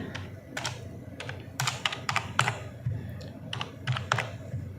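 Keys on a computer keyboard clack in quick bursts and short pauses as a command is typed, close and fairly soft, with no talking over it.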